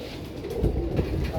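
Pigeons coo softly and repeatedly, with low, throaty calls overlapping steadily in the near distance.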